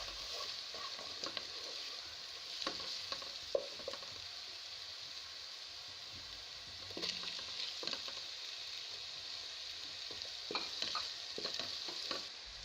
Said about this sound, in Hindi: अब प्याज में लहसुन अदरक का पेस्ट शामिल कर लेती हूँ। अच्छी तरीके से भून लें।